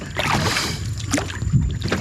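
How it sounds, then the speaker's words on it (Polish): A tour boat on the water at Trang An, Vietnam: a steady, fairly loud rumble of engine and water wash, with no voices over it. "to jest tylko dźwięk łódki"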